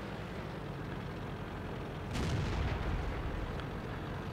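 A tank cannon fires in World of Tanks, one heavy low boom midway through that stands out over a constant rumbling engine and battle background.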